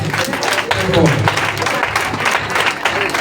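A congregation applauds at a Sunday mass, with steady loud clapping filling the church, mixed with voices and cheering throughout.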